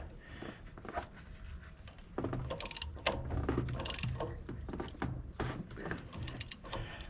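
A socket ratchet clicks and turns the crank of a 1981 Corvette engine, irregular metallic clicking and clunking up close, growing louder and busier partway through.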